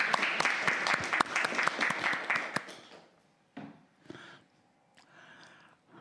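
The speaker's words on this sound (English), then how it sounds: "Please give him a big round of applause." An audience applauds a speaker at a talk, with brisk dense clapping for a few seconds that then quickly dies away into scattered faint sounds and near quiet.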